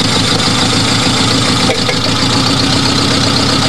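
A Suzuki Samurai engine idles steadily, loud and close at the exhaust, with a constant rough low rumble and a slight hitch midway.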